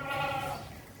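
A goat bleats once, loud and close, with a drawn-out wavering call that trails off, heard at a cattle gathering around the Qurbani Eid festival.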